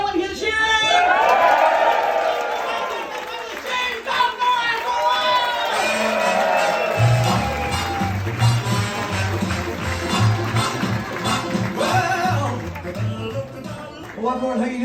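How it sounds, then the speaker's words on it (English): A comedy club crowd at The Stand whoops and cheers loudly, with shouts and a swell of voices that ease into ongoing lively crowd noise and chatter before a final burst. "Let me hear the cheering!"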